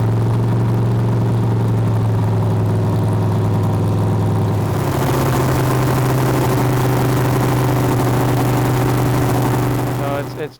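A 440 engine in a Studebaker gasser runs loud and steady, its deep drone stepping up in pitch and roughness midway as it is revved toward 7,000 rpm, with a voice heard over it.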